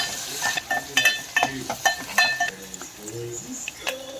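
Onions and green chillies fry in a pan with a light sizzle, over which come repeated metallic scrapes and clinks of stirring in uneven bursts. A voice talks over it at times.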